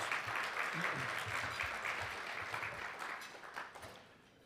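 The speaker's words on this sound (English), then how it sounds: "give yourselves a round of applause" Sustained applause from a crowd at a business luncheon, dense clapping that stays steady and then thins slightly toward the end.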